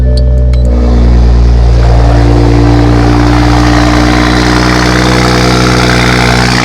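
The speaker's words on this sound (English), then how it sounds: "Now let's go ahead, get a nice little startup. Oh, Valvetronic." A car with a Valvetronic exhaust starts up loudly with a sharp initial burst, then settles into a deep, steady, close idle drone.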